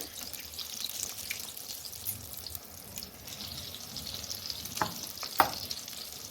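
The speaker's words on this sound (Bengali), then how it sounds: "একেবারে আঁচ কমিয়ে এই বড়াটা করতে হয়" Kangla fish fritters frying in a pan over a low flame, giving a soft steady sizzle with faint crackles and a couple of sharper utensil clicks near the end, with no one speaking.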